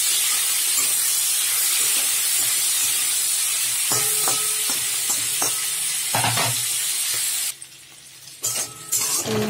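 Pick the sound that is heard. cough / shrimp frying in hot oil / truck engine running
shrimp frying in hot oil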